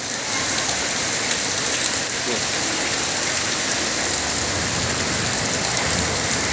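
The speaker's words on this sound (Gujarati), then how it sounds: "કરા સાથે વરસાદ પડે છે" Heavy rain with hail pours steadily in a dense, loud hiss, with a constant roar of water striking surfaces nearby.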